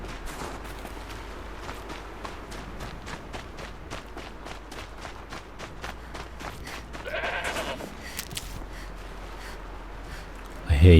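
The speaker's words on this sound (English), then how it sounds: "I hear you, goat, but I don't see you." A goat bleats off in the distance in Horizon Zero Dawn amid soft ambient game sounds and footsteps, while someone talks over it.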